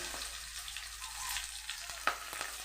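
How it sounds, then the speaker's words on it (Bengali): Slit green chilies and cumin seeds fry in a hot pan, giving a quiet, steady sizzle with a faint stir and one small clink partway through, with no voices. "এবার এটাকে আমি নেড়ে চেড়ে হালকা ভেজে নেব"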